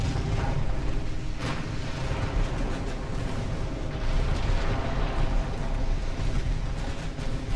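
Warship guns fire a broadside in Ultimate Admiral: Dreadnoughts with 1890-era hulls, a dense, rolling rumble of deep booms that blend into one another without pause.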